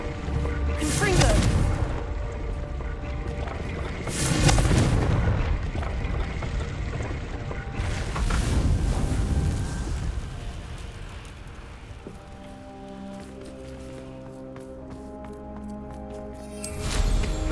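Confringo fire spell explosions go off in the Hogwarts Legacy video game, several loud whooshing blasts spread through the stretch over a rumbling backdrop, with a final burst at the end.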